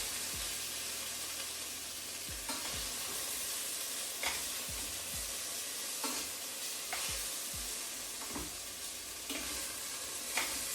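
Beef pieces browning in a stew pot, a steady close sizzle and fry with repeated scraping thumps as the meat is stirred and turned.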